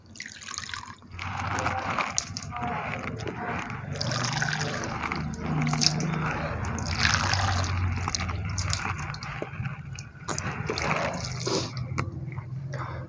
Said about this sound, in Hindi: उसके बाद नाक में पानी डालना है 3 मरतबा।